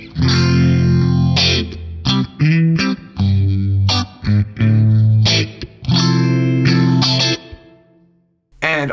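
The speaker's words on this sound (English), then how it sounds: "I do like phasers, so I'm going to put a phaser in here." Electric guitar run through a phaser effect on an Axe-Fx III processor, loud and distorted, with chopped chords and sustained notes that sweep and swirl before a short pause and a final hit.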